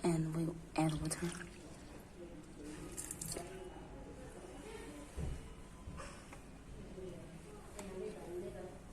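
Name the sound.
water being poured into a machine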